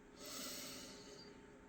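A single deep, audible inhale through the nose, soft and close, rising over about a second and a half with no talking.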